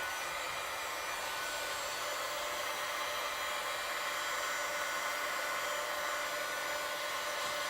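A hair dryer blows loudly and steadily on a craft project from start to finish, a constant close-up whoosh with no voices.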